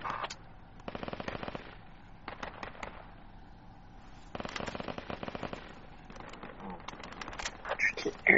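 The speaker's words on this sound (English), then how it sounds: "Be careful, there's a machine gun around the fucking hill." Bursts of automatic machine gun fire in the military shooter game Project Reality, with two sustained rattling volleys and scattered shorter shots, heard at mid-distance alongside someone talking.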